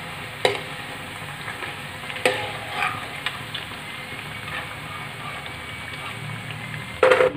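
Pakoras for kadhi pakoda sizzling in hot oil, a steady faint frying hiss broken by a few sharp scrapes and clinks as they are lifted out.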